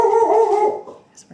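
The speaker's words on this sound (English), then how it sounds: "there's my dog again." A dog howls close and loud in a single sustained, wavering howl lasting under a second, then trails off into faint, scattered noises.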